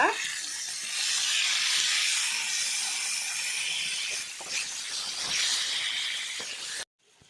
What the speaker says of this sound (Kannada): ಮೀಡಿಯಂ ಫ್ಲೇಮ್ ದೀದೆ ಮೀನು ಫ್ರೈ ಮಾಡ್ತದೆ